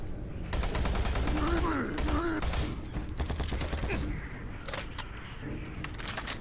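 Rapid gunfire from weapons in the first-person shooter Doom 3: Resurrection of Evil, dense bursts of shots with mechanical clatter and game effects filling most of the stretch, loud and continuous under a speaking voice.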